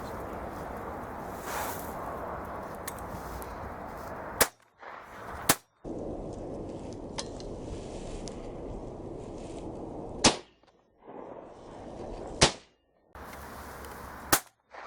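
Shotgun fired at pigeons while decoying over laid barley in June, several sharp, loud cracks spread across a steady outdoor field background, with brief dropouts of near silence around the shots.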